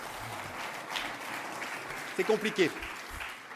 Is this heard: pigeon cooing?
no